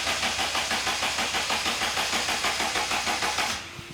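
A Daihatsu Mira engine cranks on the starter without catching, a fast, even chugging rhythm that runs loud and close for a few seconds and then drops off into near silence.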